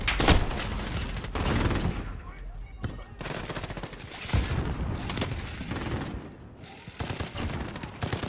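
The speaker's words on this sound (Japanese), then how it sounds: "セントリーガン強い。" Sentry gun firing in Call of Duty: Modern Warfare, loud sustained bursts of automatic gunfire filling the clip with brief gaps, mixed with other battle noise.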